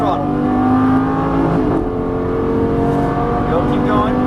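A Lamborghini at full throttle on a race track, its loud engine roaring steadily and rising in pitch, with a driving instructor's voice speaking over it.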